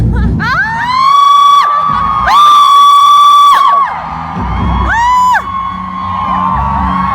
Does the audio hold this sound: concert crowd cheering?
yes